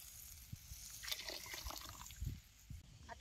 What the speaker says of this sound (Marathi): आता रसा घालून याचा कढईत हलवून.